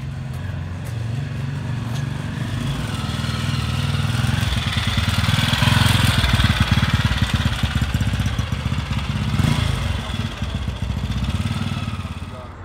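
A vintage Douglas motorcycle engine runs steadily at moderate distance, its throbbing mid-pitched note swelling louder in the middle before easing slightly, with voices faintly underneath.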